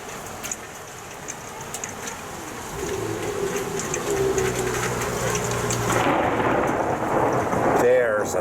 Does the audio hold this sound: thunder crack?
yes